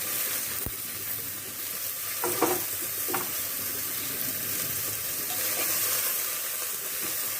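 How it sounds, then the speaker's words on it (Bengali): Onions and garlic fry steadily in a pan, a loud continuous sizzle with a few clinks and scrapes of stirring over it and no voices. "আর এই যে আমি ভাজছি একটু"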